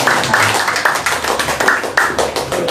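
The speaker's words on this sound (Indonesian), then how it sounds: "Tepuk tangan dulu buat" A church congregation claps for the Sunday school children, a close, fairly loud run of hand claps falling into a rough rhythmic pattern of bursts across nearly three seconds.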